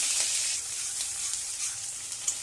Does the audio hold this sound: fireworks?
no